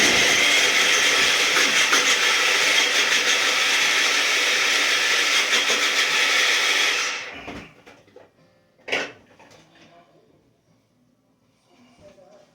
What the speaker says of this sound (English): now I'm going to put the onions in the dicer